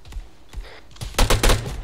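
Gunfire from a military shooter video game: a couple of faint, isolated shots, then a loud, dense burst of rapid automatic fire near the end.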